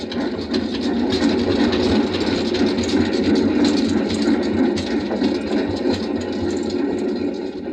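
A steam locomotive runs steadily on rails in a Western radio drama, its engine chugging loud and constant with a rolling clickety-clack, nearing a high trestle bridge, with no voices over it.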